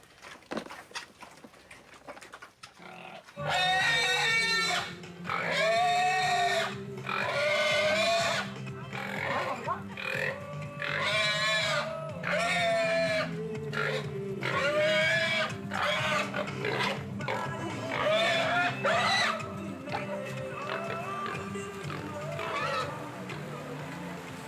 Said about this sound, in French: Le cochon, pour nous, c'est sacré.